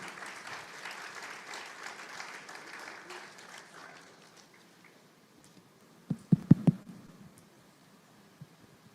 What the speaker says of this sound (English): Can we please give a round of applause as we welcome him?